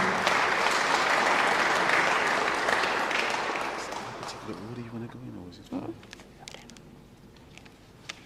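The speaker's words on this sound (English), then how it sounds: "Please give him a round of applause." An audience at a youth cricket tournament media launch breaks into loud, dense applause that gradually thins out into scattered claps.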